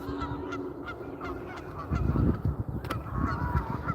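Geese honk repeatedly outdoors, clear and fairly close, their calls growing denser and louder partway through over a steady low background rumble, with no one talking.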